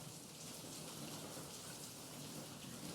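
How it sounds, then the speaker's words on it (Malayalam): Heavy summer rain pours steadily in Thiruvananthapuram during a thunderstorm, a dense, loud, unbroken hiss of falling water with a low rumble of thunder underneath, with no voices. "തിരുവനന്തപുരം നഗരത്തിൽ ശക്തമായ വേനൽ മഴ പെയ്യുകയാണ്. ഇടിയോടുകൂടിയാണ് മഴ പെയ്യുന്നത്."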